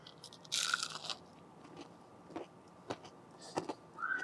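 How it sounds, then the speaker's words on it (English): Crisp crunching bites of a fried onion ring up close: a loud crackling bite followed by a series of quieter crunchy chews at an irregular pace. "I hope you can hear that crunch."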